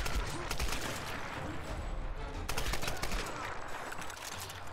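Rifle fire rattles in the Tomb Raider video game, with dense rapid shots packed into continuous bursts at moderate loudness.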